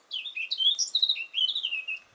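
A small bird chirps overhead in repeated quick, bright tweets and squawks, fairly close and clear, out in the open beside a river and wet meadow, with no talking.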